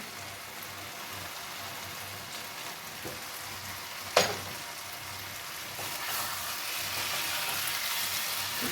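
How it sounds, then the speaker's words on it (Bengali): Cauliflower florets and potatoes sautéing in oil in a pan, a steady close sizzle with a single sharp clatter partway through and the frying swelling a little louder near the end, no talk. "আলুটা ভালো করে কষানো হয়ে গেছে এবার এর মধ্যে ফুলকপিগুলো দিয়ে দিলাম ফুলকপির তেলটাও এর মধ্যে দিয়ে দিলাম"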